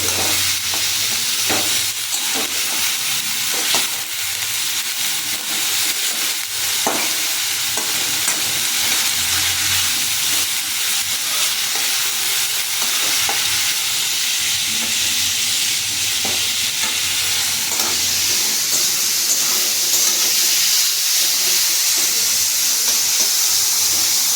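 Carrots fry in a pan for Bengali egg devil, a continuous bright sizzle with scattered scraping stirs and soft clicks of a spatula, steady and close throughout.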